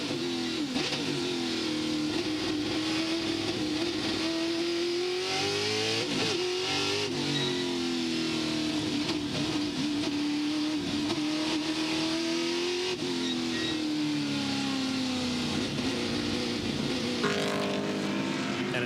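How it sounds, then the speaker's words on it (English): A Chevrolet Monza touring race car at Winton is driven hard on the throttle, its engine note rising and falling continuously through modulated revs as the driver balances it through corners, close and loud for the whole stretch. "You just hear him working the throttle there, just steering the car on the throttle."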